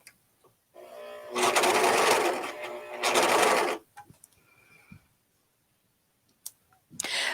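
An Amber S100 overlock serger stitches and trims fabric edges in two loud, steady bursts of whirring, rapid clatter, each about a second long, with quiet handling clicks before and after.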